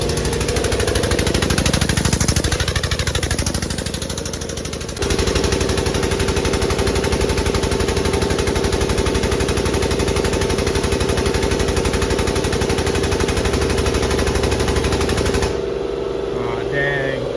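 A hydraulic bending machine in a workshop bends a part for an off-road buggy build to 68 degrees, producing a loud, continuous mechanical drone and rattle that runs steadily for most of the stretch, with a brief shift near the start and a stop near the end.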